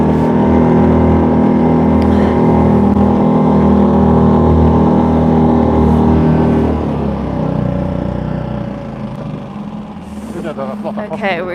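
A boat engine drones with a loud, steady low rumble while sailing off Bøur in the Faroe Islands, then the tone shifts and settles lower as the engine eases off, with a voice speaking briefly near the end.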